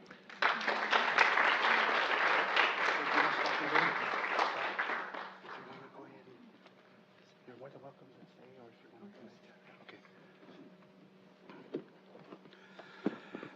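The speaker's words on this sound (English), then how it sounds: "Another round of applause for Dr. Lin, our new OMH director." Audience applause at a Pacific Islander health gathering, welcoming a new health office director: dense clapping for about five seconds, then fading to scattered claps and room noise.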